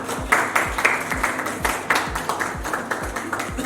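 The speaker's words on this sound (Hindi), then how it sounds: "तालियां।" Rhythmic applause from an audience at the Dadasaheb Phalke Icon Award show, with steady claps roughly three per second and low thumps beneath them, loud and close throughout.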